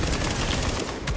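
Rapid gunfire from a gun in the video game Tom Clancy's The Division on PS4, a dense continuous burst filling the whole moment, loud and close with no talk over it.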